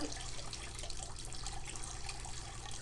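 Water dripping and flowing through permeable material, a steady close wash of trickling and splashing that holds at an even level throughout, no voices.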